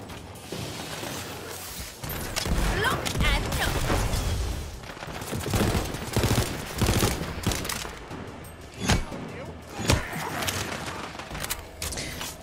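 Shots ring out in Tiny Tina's Wonderlands, a fantasy video game, as a string of sharp separate cracks and bursts of varying loudness, with mechanical weapon clatter between them.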